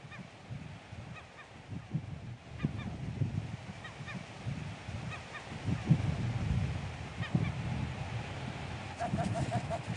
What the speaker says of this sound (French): Bruno accompagne Marion au Grand Colombier, un rocher proche de Saint-Pierre qui abrite de nombreux oiseaux